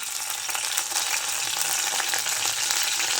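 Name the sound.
curry leaves sizzling in hot oil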